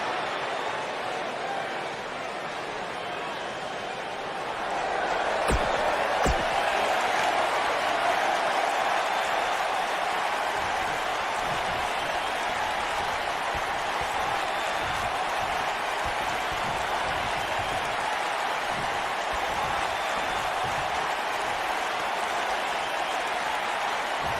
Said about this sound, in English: The crowd is buzzing with...